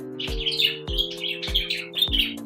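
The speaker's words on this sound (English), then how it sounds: "And these birds are driving me crazy." Birds chirp outdoors in quick repeated bursts of high tweets, about four clusters evenly spaced, with a sharp low knock under each burst and a steady low hum behind, nearby and fairly loud.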